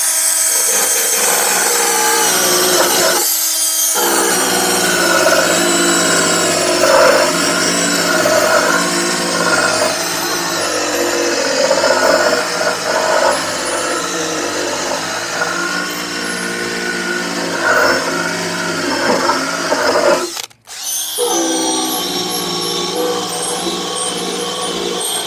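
An eraser wheel on a power tool grinds steadily against the body of a Jeep CJ-7, stripping decals; the motor drones loud and continuous with brief dips where it stops and restarts.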